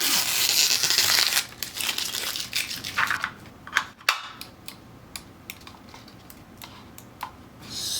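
Protective film comes off a Logitech Pro X Superlight mouse: a loud crinkly rustle up front, then scattered sharp clicks and soft crackles close by, with no voices.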